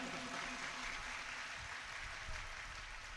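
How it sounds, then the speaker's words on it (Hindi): A crowd at a Hindu Bhagwat Katha religious gathering claps loudly to welcome Mahant Raju Das of Ayodhya, a dense, continuous roar of applause with no pauses. "आप सभी जोरदार तालियों से स्वागत करिए महंत जी का"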